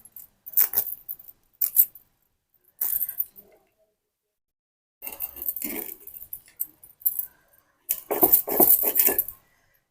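A knife chops a cleaned fish into curry-sized pieces in a village kitchen, giving scattered short clinks and thuds in clustered bursts with quiet gaps between them, nearby and with no talking.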